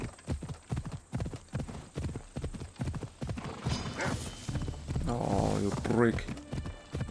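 A horse gallops in the video game Assassin's Creed Odyssey, producing rapid, rhythmic hoofbeats and a brief whinny, while a player talks over the game sound.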